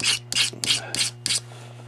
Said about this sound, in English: So what's working is scraping it. So I'm going to scrape the whole horn down again.